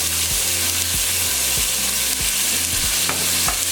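Meat sizzles loudly and steadily in a hot pan while a utensil stirs and scrapes it at intervals. The frying is close and continuous, with no talking.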